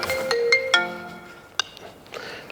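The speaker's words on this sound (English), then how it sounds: "That's your phone?" Mobile phone ringtone playing a few bright melodic notes in quick succession, then a pause and another short burst, heard clearly in a quiet room.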